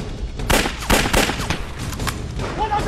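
Rifle gunfire in an anti-Japanese war drama battle scene, several sharp shots in quick irregular bursts with echoing tails, fairly loud against a busy background.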